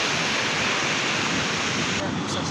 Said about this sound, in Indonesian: itu ombaknya gede banget guys